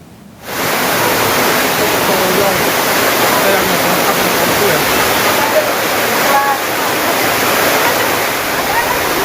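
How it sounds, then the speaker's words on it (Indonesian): Floodwater roars through Buleleng, Bali during torrential rain, a loud, unbroken rushing wash of water that starts abruptly and holds steady throughout. "Video amatir merekam hujan deras yang terjadi di wilayah Buleleng, Bali sejak siang hingga sore hari menyebabkan terjadinya banjir."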